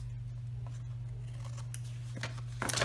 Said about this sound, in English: I'm going to cut off this little bit of overhang.